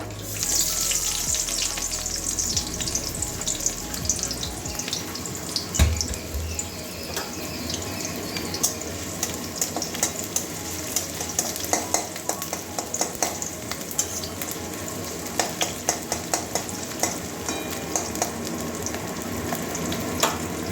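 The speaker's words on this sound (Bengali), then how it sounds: "ওই তেলের মধ্যেই কেটে রাখা পেঁয়াজ দিয়ে দেবো" Chopped onion dropped into hot oil, a strong steady sizzle lasting the whole stretch, dotted with small crackles and light clatters of stirring.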